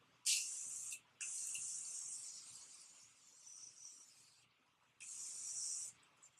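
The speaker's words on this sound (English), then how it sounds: "let's go ahead and spray my face" Three bursts of fine setting-spray mist hiss close by onto a face, the first short, the second long and fading, then one more after a pause.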